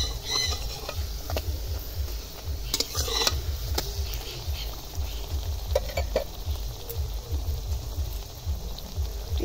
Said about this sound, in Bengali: খুব কম তাপে ভাজতে হবে